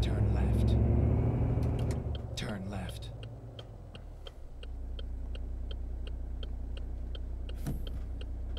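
A Ford F-MAX truck engine in Euro Truck Simulator 2 drones with a steady low rumble, louder at first and then settling, while a regular ticking indicator clicks over it and someone talks.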